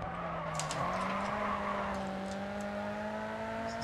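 A car drifting in the GRID 2 racing game holds a sustained engine drone with one brief pitch shift, close and steady over a constant road-noise wash, with no talking.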